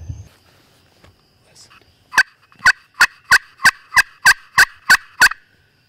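A wild turkey gobbles in a rapid series of about ten sharp, evenly spaced calls, loud and fairly near, after a quiet stretch in hot June woods.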